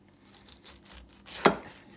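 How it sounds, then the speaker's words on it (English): A knife slices through a pineapple into round pieces, giving a single sharp crisp cut near the end of a quiet stretch of faint handling noise. "So I'm gonna cut them into round pieces."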